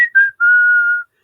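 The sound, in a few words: whistling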